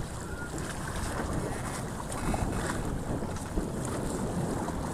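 Steady wind rushing over a Catalina 22 sailboat under sail in the Gulf of Mexico, a constant broadband roar with water wash, loud and continuous throughout with slight surges and no voices.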